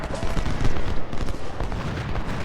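Dense, loud volleys of massed musket fire crackle without pause in the Civil War strategy game Ultimate General: Civil War, during a union river crossing battle, the overlapping shots forming a continuous rattling roar.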